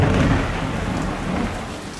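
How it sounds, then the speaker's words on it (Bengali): Heavy rain pours steadily while a deep roll of thunder rumbles underneath, with no voices. "মাঝে মধ্যে কান ফাটানো শব্দে কাছে পিঠে কোথাও না কোথাও বজ্রপাত ঘটছে।"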